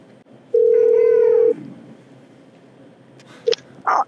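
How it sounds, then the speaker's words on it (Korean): A telephone call connects: a loud, steady dial tone holds for about a second, then short electronic beeps follow after a pause, with no talk. "그러면 한번 바로 전화 연결해 볼까요?"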